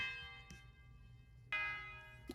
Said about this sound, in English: we really just got this tubular bell right here, playing a very simple pattern